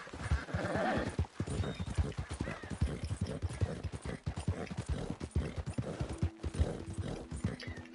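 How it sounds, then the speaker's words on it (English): Horse hooves clip-clopping at a gallop in Red Dead Redemption 2, a rapid steady rhythm of close, loud hoofbeats that carries on throughout with a brief whinny-like tone near the end. "this is the same type of horse that Dutch Vanderlyn hoards"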